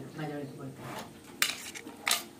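A metal spoon clinks sharply against a pan twice while homemade Schezwan noodles are served, bright close strikes after a soft scrape, with a faint voice underneath.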